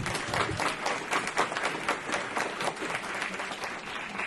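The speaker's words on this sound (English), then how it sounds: "ask for a round of applause for our tax team" An audience bursts into brisk, close applause for a team, with individual claps distinctly audible in a lively, uneven rhythm that holds steady for several seconds without speech.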